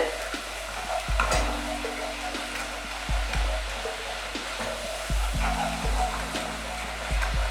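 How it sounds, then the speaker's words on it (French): A thick mixture is stirred firmly in a bowl, producing repeated scraping and swishing strokes with low thumps as the utensil knocks the sides, steady and close, with a faint voice now and then underneath. "Voyez, vous allez bien remuer."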